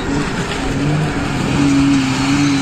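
A green Suzuki off-road jeep competing in a jeep trophy race near Astana, engine droning steadily and then revving to a higher, louder pitch partway through.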